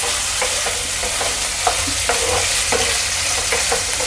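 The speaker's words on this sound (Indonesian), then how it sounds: "Sekarang ayamnya aku tumis" Chicken sautéing in a pan for satay gives a steady, loud sizzle with a spatula scraping and clacking against the pan every half second or so. Nobody speaks.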